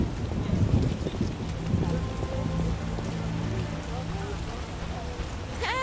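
Steady rain patters continuously on a surface in the video game The Witcher, with faint tonal chimes and a brief rising sweep near the end.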